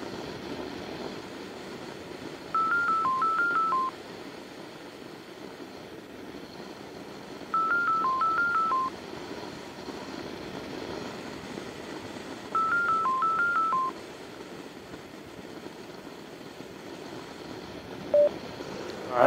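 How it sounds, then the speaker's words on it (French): Telephone dialing tones through a motorcycle intercom during a ride, three short bursts of rapid beeps repeating about every five seconds over a steady low wind and engine hum. "Ouais, j'avais reçu un coup de téléphone."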